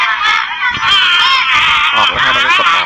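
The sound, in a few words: Angry Birds video game sounds on Samsung Corby II phone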